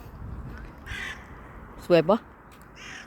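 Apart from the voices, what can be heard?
crows cawing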